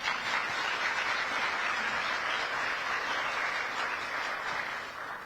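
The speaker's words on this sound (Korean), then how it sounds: "감사의 박수 한번 보내드리시죠" Audience at a luncheon gathering of Korean expatriates in the Philippines applauding in thanks, a steady uninterrupted roll of many hands clapping heard from a moderate distance, with no voices over it.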